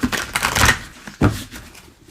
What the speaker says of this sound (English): And let's give it another shuffle.